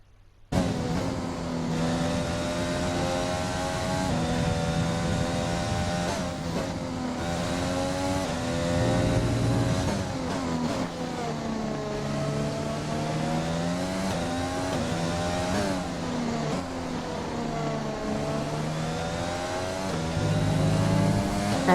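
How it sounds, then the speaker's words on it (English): Engine noise from race cars in the F1 2020 video game on track, steady and loud throughout, with high whining engines rising and falling in pitch as cars speed past and change gear. "I'm just going around at about 40 miles an hour whilst other people are whizzing by at 200"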